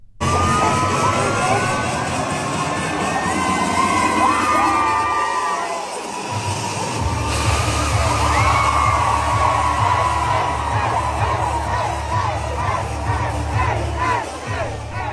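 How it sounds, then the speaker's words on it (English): A large crowd at Fresno State's Chicano Latino commencement ceremony cheers and whoops loudly and continuously, with shouts and high-pitched yells rising over a dense, sustained roar. "That's the sound of Fresno State's Chicano Latino Commencement Ceremony."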